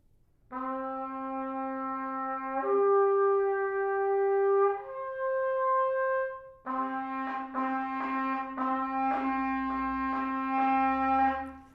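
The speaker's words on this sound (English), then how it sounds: "this is what you might call a beginning brass player sound" A sustained brass note played with squeezed lips, with a pinched, buzzy, stifled tone, shifting pitch a few times, then a held note that pulses slightly.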